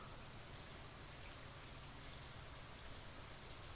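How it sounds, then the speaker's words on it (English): Steady in-game rain from Stardew Valley, a soft, even hiss of falling rain with faint pattering, constant throughout with no variation and no voices. "Is it gosh darn raining again?"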